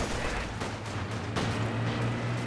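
Rapid bursts of DP light machine gun fire from guards in a World War II strategy game battle, layered with continuous distant gunfire and low rumbling combat noise throughout.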